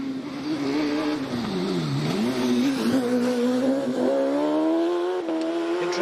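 A hillclimb race car at Prescott accelerates hard up the course, its engine note climbing and dipping through gear changes, loud and close, then fading slightly as it pulls away.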